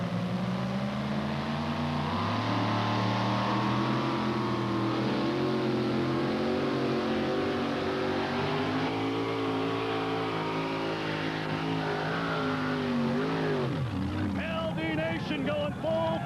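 A 1934 Ford pulling tractor with a 640 cubic inch Arius engine, the Boot Hill Delivery, roars loud and close at a 1989 NTPA two-wheel-drive pull, its engine note rising and wavering before dropping sharply near the end.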